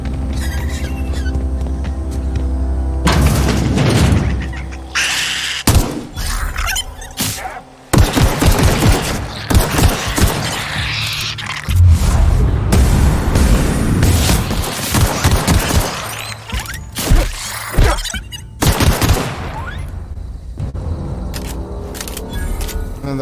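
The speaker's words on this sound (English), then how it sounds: "That was a waste of bullets." Gunfire in the sci-fi video game The Outer Worlds: loud bursts of rapid shots and booming blasts come in several clusters separated by brief lulls, with a low game soundtrack drone underneath.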